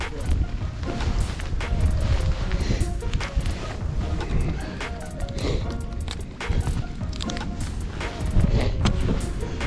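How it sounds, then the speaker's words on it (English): Wind gusts across a lake during a walleye fishing trip, buffeting the microphone with a continuous heavy rumble that swells and eases, while faint water and movement sounds sit underneath. "Wind just picked up"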